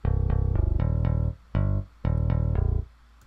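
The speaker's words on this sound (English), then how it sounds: "Now my riff will sound like this." A short synthesized musical riff with its starting note shifted, a bright buzzy tone playing a rhythmic sequence of notes in three phrases separated by brief gaps.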